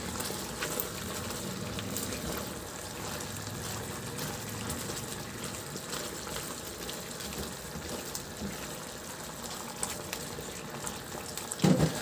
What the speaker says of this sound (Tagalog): Takpan at isimmer hanggang sa maglambot talaga yung karne.